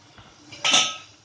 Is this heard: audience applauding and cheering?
no